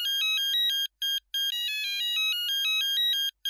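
A phone ringtone plays a loud, repeating electronic melody of bright tones in short bursts, with brief gaps between phrases, and no voices over it.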